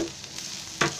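Grated coconut fries with browned onion in a pan, a soft sizzle broken by a brief louder scrape of stirring near the end.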